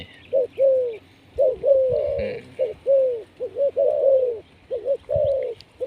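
A decoy dove being tested as a calling bird gives a close, clear series of rhythmic coos in short repeated phrases with brief pauses between them.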